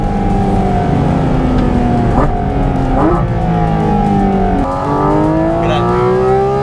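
A Porsche 911 Turbo S on track at Sepang revs loudly toward 9,000 RPM, climbing through several sharp upshifts with rising and falling engine pitch. A voice briefly exclaims over it.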